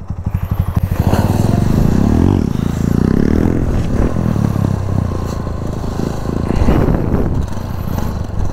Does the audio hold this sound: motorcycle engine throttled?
yes